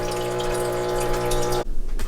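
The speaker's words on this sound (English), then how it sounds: "now we are filling up the kettle pot so we can heat it up" Warm filtered water runs steadily into a kettle pot for about a second and a half, a close, even rush with a faint ringing tone, then abruptly stops.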